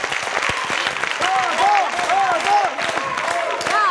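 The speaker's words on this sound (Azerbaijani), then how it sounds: "Alqışlar Dadam komandasına" Studio audience at a quiz show applauding a competing team, a steady burst of clapping from many hands lasting a few seconds, with voices mixed in.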